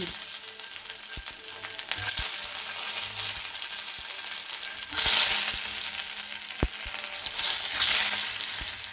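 Tomatoes sizzle loudly in hot oil in a kadhai, with soft plops and scraping as pieces go in one by one, and the frying noise swells and stays dense throughout.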